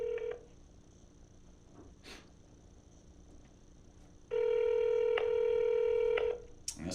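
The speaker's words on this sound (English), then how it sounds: "That's 2 rings." An outgoing telephone call rings back with a steady electronic tone, a short burst at the start and a longer, louder ring about two seconds long near the end, over quiet room noise.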